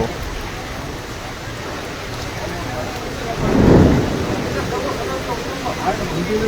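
Heavy rain pours down steadily at Rupnarayanpur in a dense, loud hiss, with a low rumble swelling briefly midway, as if thunder, and a voice talking over the downpour.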